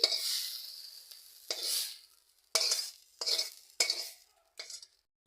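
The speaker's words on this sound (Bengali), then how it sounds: "এইভাবে ভাজা করবে শাকটা" Water spinach greens are stir-fried in a wok: a spatula scrapes and tosses them in several separate bursts of hissing sizzle, each fading between strokes, close and clear with no talking.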